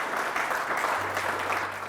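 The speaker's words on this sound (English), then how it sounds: "give yourselves a huge round of applause" A veterans group applauding themselves, steady broad clapping throughout under low room rumble and a faint hum, no talk.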